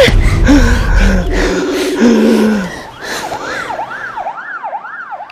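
An ambulance siren wails in a rising and falling pattern, starting under a muddle of other sounds and then ringing out clearly on its own.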